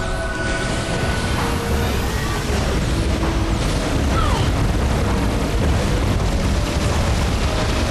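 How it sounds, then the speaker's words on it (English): Cannons in the Metroid Prime 3: Corruption video game fire and explode in irregular order, producing loud, rumbling booms and blasts that overlap into a continuous heavy din. "the 7 or 8 cannons, couldn't see how many it is, they fire in a random order"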